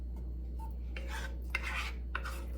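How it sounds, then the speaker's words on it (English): Italian seasoning being stirred into homemade tomato pasta sauce, giving three soft scraping strokes of a utensil in the pot, faint and close, with no one speaking. "I just sprinkle it in all over the top, and then I stir it in."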